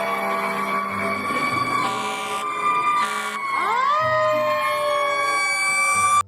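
A toy fire truck's electronic siren wails loudly and steadily, its tone sweeping and warbling through the whole stretch, with no talk over it.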